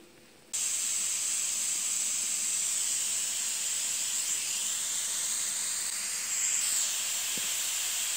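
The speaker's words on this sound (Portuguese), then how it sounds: "a panela está fervendo já assim com pressão" Steady, loud hiss of steam escaping from a pressure cooker cooking chicken tenderloins, starting abruptly after a brief quiet moment and continuing unbroken, with a faint rising whistle.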